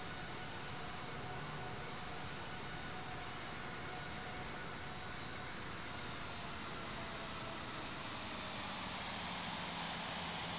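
Boeing 787-9 jet engines taxiing in the Infinite Flight game, a steady broad rushing whine that holds even and continuous throughout, with no talking.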